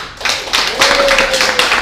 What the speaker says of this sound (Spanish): ¿Cuánto les damos un aplauso a aquellos que se conectan al canal de YouTube?